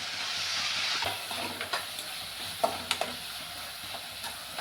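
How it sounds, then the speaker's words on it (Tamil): Prawn gravy masala with coriander and curry leaves sautéing in a pan, a loud hissing sizzle at first that settles into a gentler crackle with several light stirring clicks, close up and without talk. "கொத்தமல்லி கருவேப்பிலை போட்டு நல்லா மறுபடியும் வதக்கணும்."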